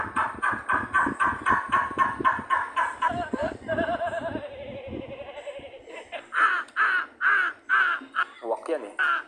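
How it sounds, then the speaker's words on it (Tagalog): A crow caws in a rapid series of harsh, loud, close calls, with a brief pause and then more raspy caws, while people talk and laugh nearby. "Uwak yan eh."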